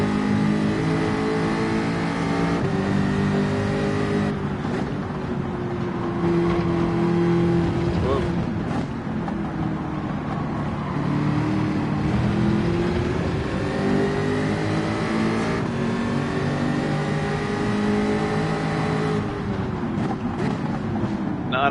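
A Lexus Gr.4 race car engine lapping Suzuka Circuit in a racing game, a loud, sustained droning whine that rises and falls through gear changes and corners for the whole stretch.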